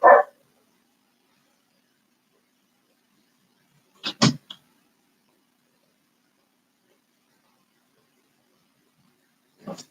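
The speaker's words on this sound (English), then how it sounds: "And we'll at least dampen the barking." A dog barks in short isolated bursts separated by long silences, muffled as if from another room.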